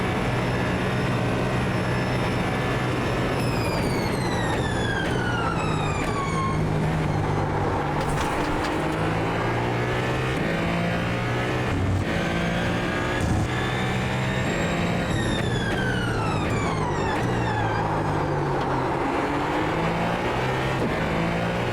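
A Ferrari 499p race car engine in iRacing screams through repeated upshifts, its pitch climbing and dropping with each gear change, loud and continuous with a rumbling low end.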